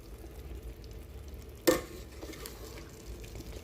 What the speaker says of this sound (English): Now we're gonna give this a good mix